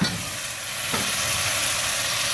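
Minced mutton hitting a hot pan already holding garlic and ginger, setting off a steady loud sizzle that holds and brightens after a moment, no voices.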